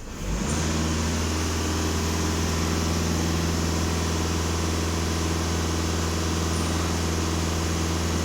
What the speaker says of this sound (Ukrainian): Даю обертів.